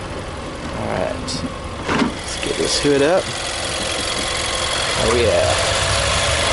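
A 2014 Nissan Juke NISMO RS turbo engine idles with the hood up, a steady moderate hum under a man's brief remark, with a few short whirring and clanking sounds over it.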